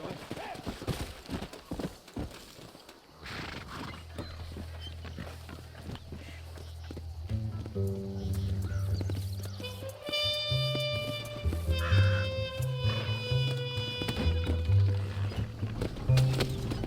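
Horse hooves in the Red Dead Redemption video game, a steady clip-clop of walking hooves under music and occasional speech, moderately close.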